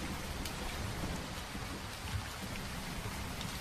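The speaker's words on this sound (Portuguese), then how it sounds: "Entraram, olharam a chuva da janela frontal da sala e sentaram para conversar." Steady rain falls as a sound effect in an audio story, an even hiss of drops at moderate level with a low rumble underneath, continuous and without voices.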